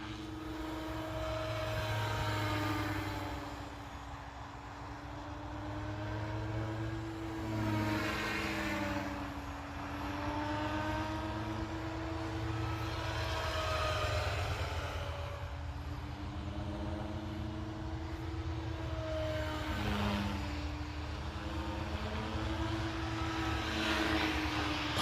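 SAB Goblin 570 three-blade RC helicopter on a 6S setup flying outdoors, its steady whining rotor and motor drone rising and falling in pitch as it passes and turns, continuous and fairly loud with no talking.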